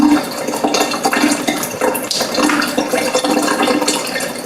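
Tap water runs at a slow flow into a kitchen sink, a steady splashing hiss with faint clinks, close and continuous throughout.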